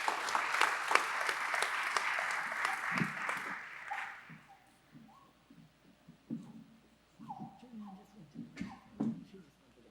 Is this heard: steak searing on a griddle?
no